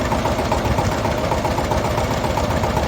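A turbocharged Shifeng 160 Turbo Intercooler tractor engine idles loudly and steadily, a continuous low rumbling chug with a regular knocking pulse and no voices.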